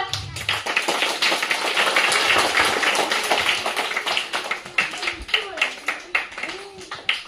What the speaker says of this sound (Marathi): टाळ्या वाजवा सगळे.